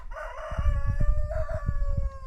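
A rooster crows loudly nearby, two drawn-out calls in quick succession, with some low background thumps.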